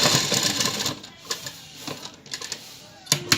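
Sewing machine stitching a kurti, heard as bursts of rapid mechanical clatter that start and stop, close and fairly loud, with quiet gaps between runs.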